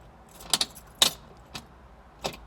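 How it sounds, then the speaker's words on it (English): An ignition key jingles as it goes into the switch of a Mercedes 190SL. Close keyring clinks come in a few brief clusters over a quiet background. "Put the ignition key in,"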